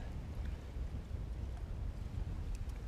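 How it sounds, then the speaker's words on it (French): Strong, gusting wind at a lake during a feeder fishing session rumbles steadily and loudly across the whole stretch, a dense low buffeting roar with no voices over it. "le vent nous aide pas là"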